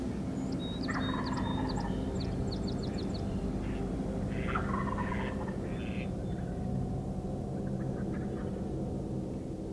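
Wild turkeys gobble in several bursts against a steady low rumble, with high chirping bird calls scattered through, the gobbles moderately distant, during a morning hunt in Beauce.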